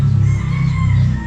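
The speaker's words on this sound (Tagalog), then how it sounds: "malalaki na uli yung mga manok natin" A rooster crows nearby at a backyard place in the Philippines, a loud, sustained call with no talk over it.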